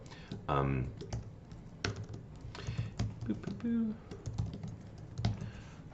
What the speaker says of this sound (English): Sorry, I'm typing stuff.